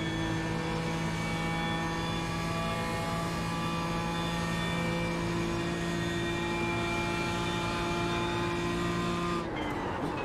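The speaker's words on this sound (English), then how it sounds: "I'm kind of irritated that the gearbox whine is so much louder than the engine." A BMW M4 GT3 race car in the iRacing sim, gearbox whine loud and steady over the engine drone, holding pitch for most of the run before dropping sharply at a gear change near the end.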